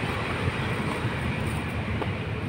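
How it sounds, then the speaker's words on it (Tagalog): A train rolls past near a hiking trail and park, giving a steady, loud low rumble with continuous broadband noise and no clear individual clicks. "Yun yung train guys."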